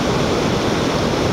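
Ocean waves at Sendai Newport beach, a steady, dense roar of surf filling the whole moment, close and loud with no breaks.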